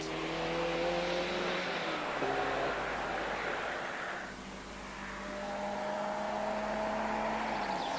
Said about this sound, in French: Même pour une voiture sportive, la ZX Volcan est trop bruyante.